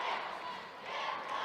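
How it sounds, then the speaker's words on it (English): A judo crowd at the Tashkent Grand Slam shouts together, calling for a second score for Valizada. The roar is steady and dense throughout, with no single voice standing out. "The crowd is asking for a second Judo for Valizada."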